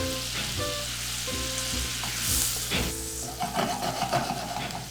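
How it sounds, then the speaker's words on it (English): Thyme stirred into a reducing steak au poivre pan sauce, bubbling and sizzling close by as a utensil sweeps and scrapes through the pan in short strokes, the frying rising and settling with each stir. "I'm going to add in my thyme. Give it a stir."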